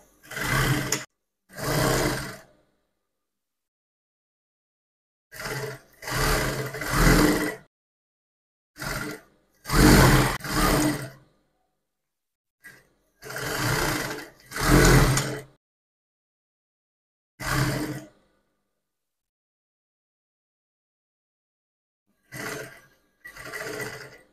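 A sewing machine stitches darts in fabric for a contour skirt, running in short separate bursts of one to two seconds between stretches of silence, close and clear, with no talking.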